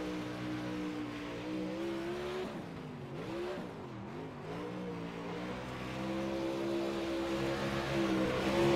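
Race car engine from the iRacing sim at Lanier, droning steadily through a lap with pitch dipping and rising as it lifts off and accelerates, a continuous near engine note growing slightly louder toward the end.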